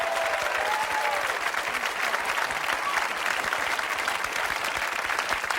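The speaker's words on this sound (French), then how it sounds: "C'est des applaudissements honnêtes et nourris" Dense, sustained applause from a studio audience on a Quebec television talk show, steady and loud from start to finish with scattered cheers mixed in.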